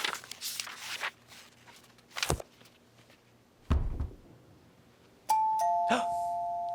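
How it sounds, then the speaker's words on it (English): A doorbell sounds near the end with a clear two-tone chime, preceded by scattered thuds and footsteps. "That's the doorbell."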